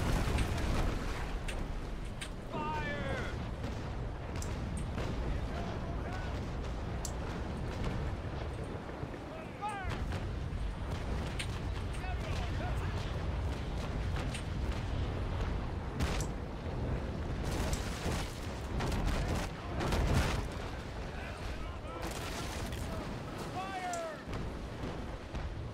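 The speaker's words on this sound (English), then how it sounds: "Fire as soon as the battery bears." Ship cannon batteries firing in the Naval Action sailing video game, repeated heavy booming broadsides spread through a long stretch, mixed with splashes and battle noise while someone talks over much of it.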